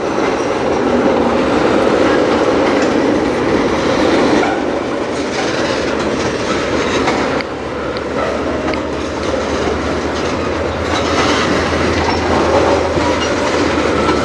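An industrial freight train rolls past on the Strathroy Sub line, a loud, steady rumble with clickety-clack from the wheels over the rails, close and continuous throughout.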